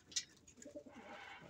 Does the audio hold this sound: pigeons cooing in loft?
yes